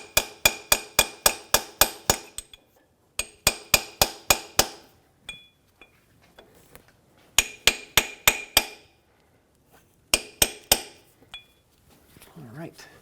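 Sharp metallic hammer blows drive a CV axle seal into place on a 2013-2018 Hyundai Santa Fe, struck through a ball joint press cup used as a spacer. The strikes come in rapid bursts of about eight to ten, with short pauses between bursts.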